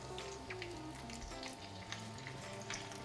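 Fish fillets fry in warm oil in a non-stick pan over medium-high heat, a quiet, even sizzle with light crackles running over soft, steady tones in the background.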